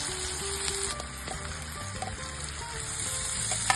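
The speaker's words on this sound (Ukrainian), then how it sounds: "Обсмажуємо цибулю та додаємо фарш" Onion and minced meat frying in a pan for Bulgarian-style moussaka, a steady close sizzle with small crackles and spits throughout, no talking.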